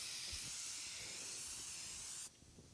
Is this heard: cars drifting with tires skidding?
no